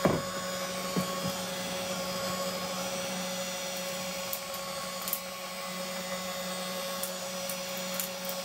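A heat gun blows steadily while warming old vinyl flooring, a constant whirring hum with a faint tonal whine, close and unbroken, with a few light clicks and taps.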